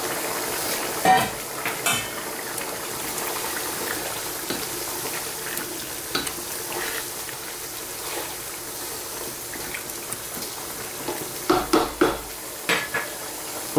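Big, chunky peeled potatoes clunk into a pot of lamb curry, giving several sharp knocks and thuds against the pot among stirring and faint sizzling, with a louder cluster of impacts near the end.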